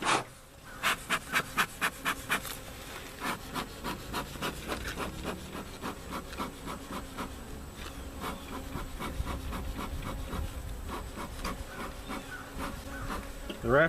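Honeybees buzz around a small opened swarm hive, a persistent close hum mixed with rhythmic scraping and rubbing bursts from the woodenware at the start and scattered knocks later.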